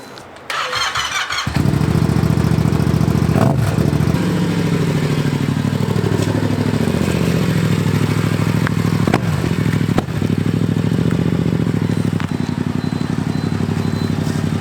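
A Honda Grom motorcycle engine cranks briefly, then catches and settles into a loud, steady idle nearby, with a few small revs and clattering bumps over the running engine.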